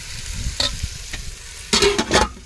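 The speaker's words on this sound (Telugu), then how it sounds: "చికెన్ అయితే బాగా కలుపుకోవాలి" Half a kilo of chicken is stirred into spices frying in oil in a pot, producing loud, close scraping strokes in uneven bursts over a quiet sizzle, with a heavier cluster of stirs near the end.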